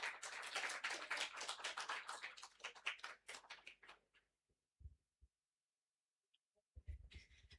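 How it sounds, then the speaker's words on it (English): Applause from the audience at a sickle cell disease conference, a few seconds of moderate clapping that thins out and stops, followed by near silence and faint thumps. "Let's give a round of applause as she comes."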